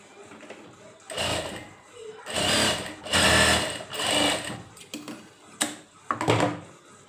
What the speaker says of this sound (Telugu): ఇప్పుడు ఈ రెండు పక్కల కూడా మనము చిన్న ఫోల్డింగ్ చేసుకోవాలి